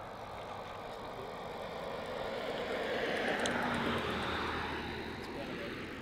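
A departing airliner at Melbourne Airport roars in a broad, steady rumble that swells toward the middle and holds loud, with people's voices faintly present under the engine noise.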